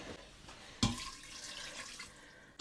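Water is poured into a cooking pot of chicken, a soft splashing stream that starts abruptly and runs for about a second before tapering off, fairly faint and close.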